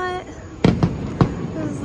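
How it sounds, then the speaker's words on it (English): Three booming bursts of the Epcot Forever fireworks show at Epcot pop at a moderate distance, with background crowd murmur between the blasts. "This is the Epcot fireworks. So Epcot Forever, I believe, is the name of this specific firework show."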